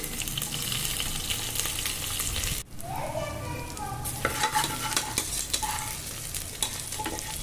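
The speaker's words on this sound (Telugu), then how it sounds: "పచ్చిమిరపకాయలు ఒక నాలుగు వేసి కరివేపాకు వేసి వేయించుకోండి" Green chillies and curry leaves frying in hot oil while being stirred: a dense, close sizzle, with a brief break partway through and then spatula scrapes and crackling pops over the steady frying noise.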